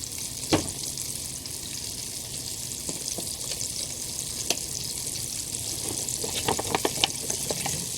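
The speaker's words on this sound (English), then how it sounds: "It's frying pretty good," Liver and onions frying in a pan outdoors, a steady close sizzle with occasional sharp pops and spatters, with no voices.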